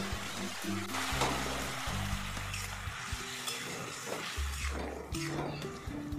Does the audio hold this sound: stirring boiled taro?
yes